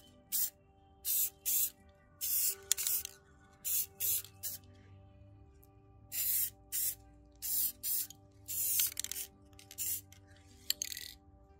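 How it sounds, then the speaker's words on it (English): Repeated short bursts of gloss clear aerosol spray on painted rocks, about fifteen hisses in quick uneven sequence, close by, with brief pauses between them and no talking. "I usually just try and find a gloss clear spray."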